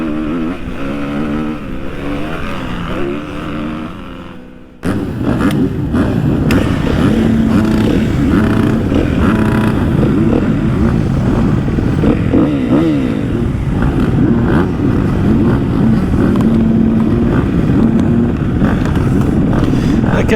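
A veteran rider's motocross bike, a 200 two-stroke or 250 four-stroke, races loud and close from about five seconds on, a steady sustained engine drone with shifting revs after a quieter opening stretch.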